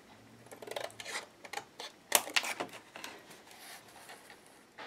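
Scissors snip through a sheet of acetate, trimming it to size for a papercraft page: a run of crisp, close cuts in an uneven rhythm, with a few sharper snips near the middle and no voices.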